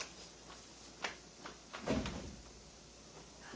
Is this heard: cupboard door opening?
yes